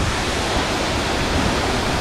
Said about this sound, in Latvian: Bet, šitais bija labs ūdenskritums, man ļoti patīk.